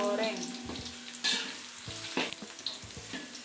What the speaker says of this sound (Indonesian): Siriasnya digoreng biar mengeluarkan aroma yang lebih wah ya guys.